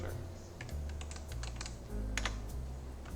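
Rapid keystrokes clatter on a computer keyboard as a command is typed into a Windows terminal, with irregular clicks close by and a faint low voice underneath.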